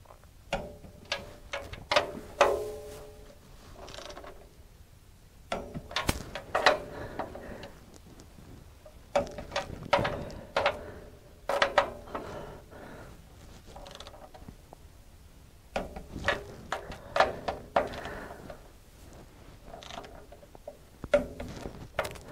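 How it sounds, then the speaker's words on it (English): A torque wrench set to 45 ratchets and clicks while bolts on an HD38/HD36V2 sawmill log deck frame are tightened, sharp repeated metallic clicks in bursts separated by short pauses, close and without speech. "I have the wrench set to 45, and we're just going to go. In this case, it'll click when it gets to the desired torque."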